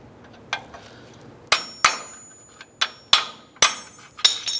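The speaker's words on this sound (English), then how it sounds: "I'm just going to punch it out through the back side." A hammer driving the front upper control arm bolt out on a 2004–2012 Chevy Colorado, about eight sharp metallic blows in an uneven rhythm, close and ringing, some strikes louder than others, no talk.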